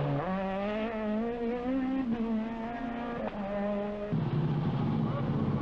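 A 1998 Renault Megane rally car competes at the Boucles de Spa in Belgium: a loud, high-revving engine whose pitch climbs and drops with each gear change, close and continuous.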